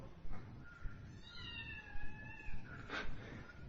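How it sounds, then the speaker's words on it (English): A small kitten meows several times, thin drawn-out cries at a moderate distance against faint background noise outdoors in Salem, Tamil Nadu, India. "I think a cat's on the VSN over there. Little kitten. Have some milk. Sounds like the kitty's looking for milk."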